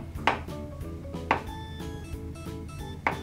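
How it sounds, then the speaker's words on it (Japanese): A knife chops firm tofu into thin strips on a cutting board, several distinct knocks spaced about a second apart, close and fairly quiet over low kitchen background, with no talking. "そして、豆腐も千切り。 こうやってトントン。"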